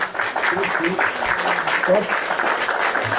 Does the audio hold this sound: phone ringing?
no